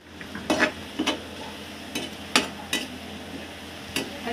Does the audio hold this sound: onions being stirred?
yes